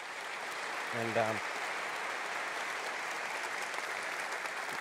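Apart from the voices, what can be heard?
audience applause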